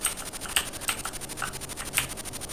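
Keyboard keys tapped in quick irregular bursts while playing a Licence to Kill game on a Sinclair ZX Spectrum, close and moderately loud with faint game tones underneath.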